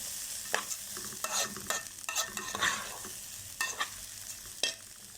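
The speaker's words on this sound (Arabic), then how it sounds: "ننزل طبعا كده مع الرز بالشعرية كده وندوم تشويحة كده مع بعض" Rice with vermicelli being sautéed in a pot for Egyptian koshari: a scraping spoon stirs in quick irregular strokes over a soft sizzle, fairly quiet and close, with no talking.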